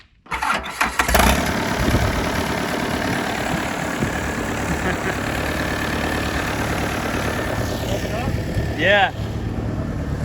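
An engine starts and settles into a loud, steady idle with a brief rev near the end, close by, with a short spoken word over it.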